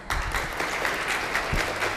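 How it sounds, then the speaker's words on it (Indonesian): An audience at a university law debate semifinal applauds to welcome the two debate teams, a dense, continuous wash of clapping at moderate volume with no voices standing out. "Kita beri tepuk tangan yang meriah."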